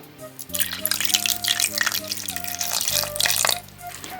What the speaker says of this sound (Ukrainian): налию трішки водички